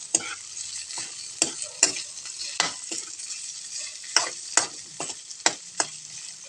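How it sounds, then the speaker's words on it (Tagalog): Ingredients for a spaghetti sauce are sautéed in a pan under a constant bright sizzle, with repeated clacks of a utensil stirring against the pan, close and loud. "So, yan, gisahin natin. Lutuin muna natin siya."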